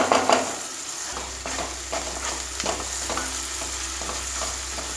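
Vaghareli masala khichdi with tomato cooks in a pan, giving a continuous close sizzle with a few stirring scrapes at the start and no voices.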